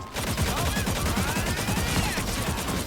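Rapid blaster fire from Star-Lord's twin guns in the Marvel Rivals video game, a dense continuous volley of quick shots with whirring energy whines layered over the top, loud and close throughout.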